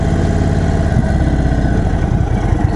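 A 2021 Indian Chief Dark Horse motorcycle engine idles steadily up close, a dense low rumble with an even, throbbing pulse throughout and no voices over it.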